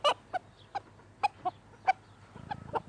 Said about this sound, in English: Oh, some of the chicks got out of the fence over there.